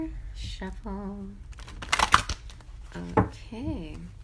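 A short, crisp riffle of tarot cards, a quick papery flutter lasting about a second, with a voice making sustained tones before and after.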